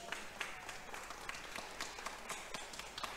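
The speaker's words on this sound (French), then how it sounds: "Bravo, sous vos applaudissements." An audience at a French conference on tackling litter waste applauds, a fairly soft, distant wash of clapping with a few sharper individual claps standing out in a loose, uneven rhythm.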